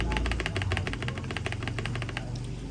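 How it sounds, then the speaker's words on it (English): Spacebar of a Machenike K500w wireless mechanical keyboard with brown switches, pressed in a quick steady run of about a dozen close, sharp clacks with a slight hollow thump. "So the spacebar sounds like this."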